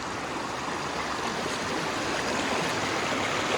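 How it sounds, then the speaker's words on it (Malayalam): A forest stream flows beside an off-road jungle track in Wayanad, a steady, dense rushing of water that holds constant and fairly loud throughout with no other sounds standing out. "ഈ കാടിൻ്റെ അടുത്ത് കൂടി ഒരു അരുവി പോകുന്നുണ്ട്"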